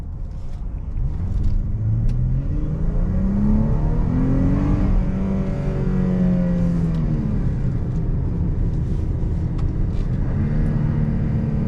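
A Chrysler 300 cruises through busy highway traffic, a steady loud road rumble and engine drone with rising and falling tones as the car speeds up and eases off, running on without a break.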